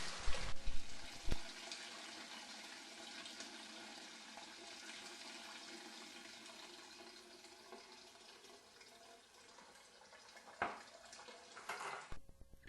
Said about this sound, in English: Pour the juice through the strainer and catch all the sultanas.